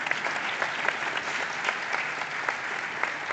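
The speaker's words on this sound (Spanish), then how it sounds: "Aplaudamos" Audience applause at a live science panel discussion: steady, dense clapping from a full crowd, sustained evenly for the whole stretch with no voices on top.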